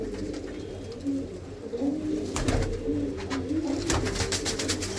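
Pigeons coo in low, throaty, repeated calls against a steady background hum, with a few sharper clicks and rustles layered over the cooing.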